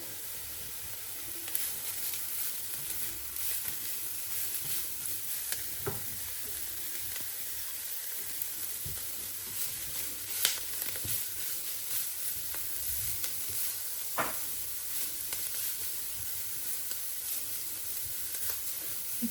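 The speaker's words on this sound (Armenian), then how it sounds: "տապակում ենք գազերը" Grated carrots fry in a pan over onions that were sautéed earlier, giving a steady, close sizzle throughout with a few faint scrapes and taps from stirring.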